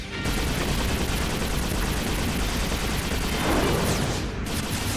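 Sustained animated gunfire as two characters open fire on androids, a dense, continuous rattling barrage of rapid shots that stays loud and unbroken throughout, with no talk over it.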